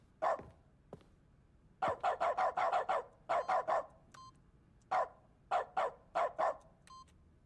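A person's voice imitates a dog barking, giving a rapid series of short, sharp woofs in clustered bursts with brief pauses, close and clear, with a couple of faint electronic beeps in between.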